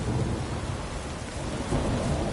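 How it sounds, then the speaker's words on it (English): A thunderstorm with heavy rain pours down continuously, a dense hiss of rain on surfaces over low rumbling thunder, loud and steady throughout with no voices. "A storm, damn it."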